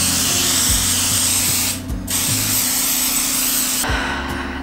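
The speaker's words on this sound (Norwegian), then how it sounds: "Nå har jeg fått varmet opp sprayen litt, så får vi se om det går litt bedre nå." Spray paint can hissing steadily while a warmed-up can decorates a Peugeot car, a continuous close broadband spray with two brief pauses where the nozzle is released.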